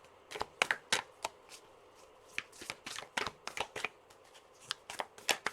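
Tarot cards are handled and drawn from a deck, producing a series of close, crisp slaps and flicks in irregular clusters.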